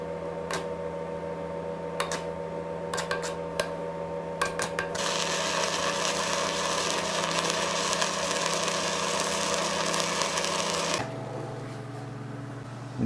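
An Everlast Cyclone 200ES MIG welder lays beads, producing a wide, messy weld: a few sharp clicks, then a steady, loud crackling hiss for about six seconds that cuts off, leaving a low hum.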